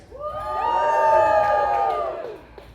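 A comedy club audience cheers and whoops loudly, a rising and swelling crowd roar that peaks mid-way and then fades out, heard alone without talk.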